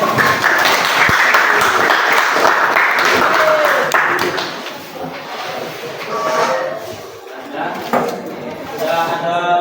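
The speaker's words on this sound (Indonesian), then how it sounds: "Tepuk tangan untuk kalian." Students in a school counseling session clap together in a dense burst of applause for about four seconds, which then thins out into scattered voices and chatter.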